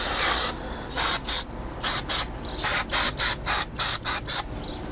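Aerosol cleaner sprays in repeated short, hissing bursts onto the front brakes of a 2013 Kia Soul during a pad and rotor job, loud and close with brief pauses between blasts.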